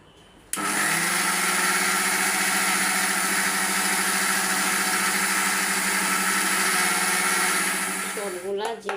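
An electric kitchen blender grinds roasted cumin seeds, starting abruptly and running as a loud, steady whirring motor for about eight seconds before winding down near the end.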